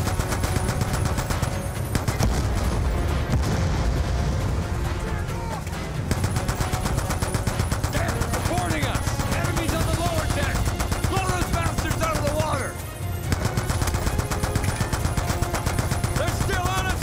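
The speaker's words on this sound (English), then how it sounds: "They're mounted MGs on each side of the barge!" Mounted machine guns on both sides of a barge rattle in sustained, dense bursts during a Call of Duty: Black Ops 2 campaign battle, loud and continuous with a brief lull, mixed with game music and shouted voices.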